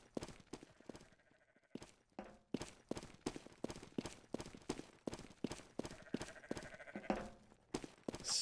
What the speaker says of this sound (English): I heard a sheep or a lamb.